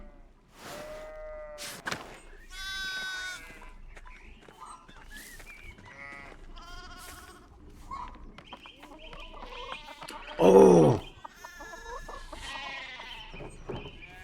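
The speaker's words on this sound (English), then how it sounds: "God, there's so many sheep." Sheep and other farm animals bleat repeatedly in a pastoral scene of the medieval-era video game Pentiment, with one sharp loud bleat near the end and a person briefly exclaiming.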